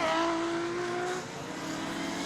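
Rallycross car at Lydden Hill accelerates downhill, a loud engine note rising then easing as it passes, with other engines droning close behind.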